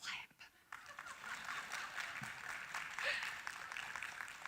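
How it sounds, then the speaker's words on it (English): An audience claps at a university social work pinning ceremony. A steady wash of applause follows a brief pause and carries on through to the end, with some scattered voices mixed in. "Now you can clap."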